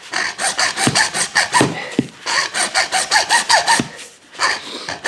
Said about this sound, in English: I could just hold the hacksaw in place and cut itself off